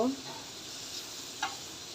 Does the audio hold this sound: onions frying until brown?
yes